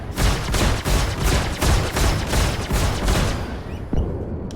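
Missile launches and weapon fire in the Star Citizen space game come as a rapid string of loud, punchy bursts in close succession, fading toward the end, with no talking.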